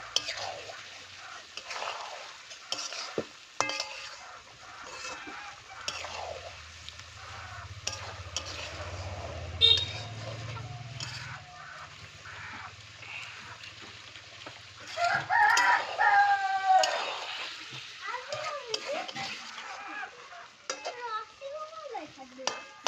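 Desi chicken with masala is stirred and fried in a pan, with soft scraping, clinking and low sizzling at a quiet, close level, and occasional chicken clucks and a voice in the background.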